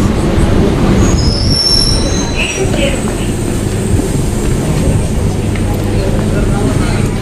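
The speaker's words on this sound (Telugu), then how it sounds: "మన ట్రైన్ వచ్చేసింది." A metro train arrives at Hitech City, loud and close, with high metallic wheel squeals at the start and a steady heavy rolling drone.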